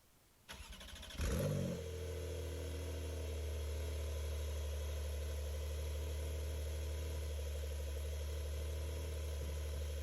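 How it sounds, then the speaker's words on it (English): A car engine cranks and catches, then settles into a steady, deep exhaust rumble at idle that continues close by with no talking. "a good exhaust sound goes a long way"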